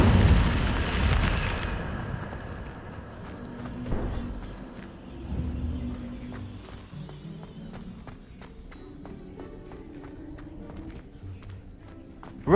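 Incendio fire spell blasts in Hogwarts Legacy, a loud whooshing burst at the start that fades into rumbling impacts and scattered crackling clicks as the effect dies away.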